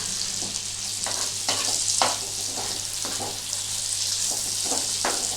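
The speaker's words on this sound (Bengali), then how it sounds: "এইটা মাখন দিয়ে ভাজি। এবার যেটা করব, এর মধ্যে আমি দিয়ে দেবো অল্প কাটা কচি বিনস।" Chopped young green beans fry in butter with a constant sizzle, broken by repeated stirring scrapes and clatters of a utensil against the pan, with no voices.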